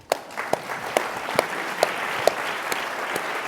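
A debate audience applauds after closing remarks on California's proposed high-speed rail. Close, evenly paced claps cut through a steady wash of crowd clapping that continues to the end.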